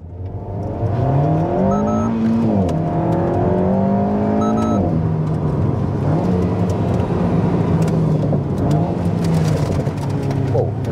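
An Alpine A110 R sports car engine, warmed up, revs up through rising gears, loud and close, the pitch climbing and dropping with each shift.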